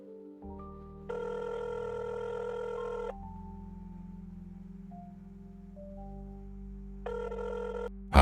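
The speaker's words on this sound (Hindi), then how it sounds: "कुछ देर बाद वो अपना फोन में एक नंबर मिलाते हैं" A telephone rings twice through a handset after a number is dialled: two long electronic ring tones about four seconds apart over a low steady hum. The sound is faint, with no talking.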